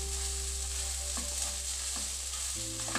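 Something fries in a pan with a steady, quiet sizzle and a low hum, and a few faint stirring knocks break through it.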